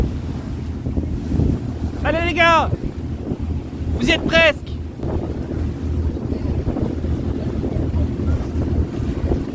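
Wind buffets the microphone over a boat's low engine rumble and water noise on a ride to Loutro, Crete, with brief voices and a couple of sharp squeaks.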